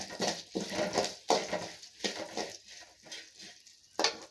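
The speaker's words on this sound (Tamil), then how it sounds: "போட்டுட்டு நல்லா வதக்கலாங்க. நல்லா இந்த எண்ணெயிலேயே ஃப்ரை ஆகணுங்க." Curry leaves sautéing in hot oil, a soft, intermittent sizzle broken by stirring scrapes and light clinks of a utensil on the pan, fairly quiet and close.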